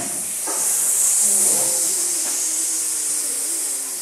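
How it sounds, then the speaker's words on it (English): Pancake batter cooking in a hot pan, a steady sizzling hiss that swells slightly then holds evenly for a few seconds, close and fairly loud, with faint bumps of activity underneath. "we'll take your pan and we'll put your pancake into your pan"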